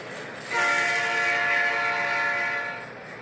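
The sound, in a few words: Canadian Pacific intermodal freight train passing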